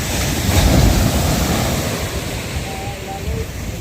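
Sea waves washing and churning against a boat in monsoon wind, a loud rushing surge swelling early then settling into a steady roar, with wind buffeting the microphone.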